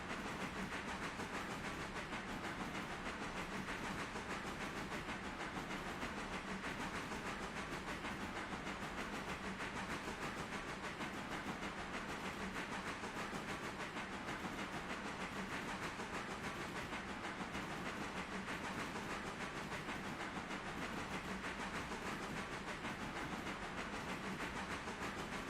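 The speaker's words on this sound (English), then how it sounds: "Try not to fall off the train." A train in the Railroader video game produces a constant broadband hiss and rushing rumble, steady and fairly faint throughout, with no distinct events or voices.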